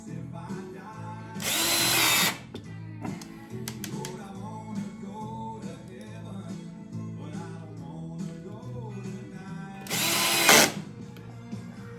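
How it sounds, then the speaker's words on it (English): A power drill drives screws to fasten a screw-on faceplate onto a spalted maple blank for lathe turning. Two short, loud whirring bursts sound about eight seconds apart, with quieter handling noise between them. "We'll screw it on here and we'll mount it on the lathe."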